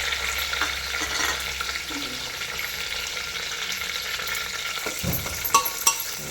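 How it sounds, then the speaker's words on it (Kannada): Plenty of garlic fries in oil with curry leaves and coriander, a steady close sizzle with a couple of sharp utensil clatters near the end. "ಎಣ್ಣೆಯಲ್ಲಿ ಹಾಕಿ ಬಾಡಿಸ್ಬೇಕು"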